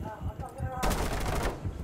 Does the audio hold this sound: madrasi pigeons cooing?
no